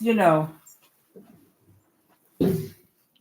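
A dog whines indoors in a home kitchen, with a short voiced whimper at the start followed by a faint pause and a second brief whine, close and moderately loud.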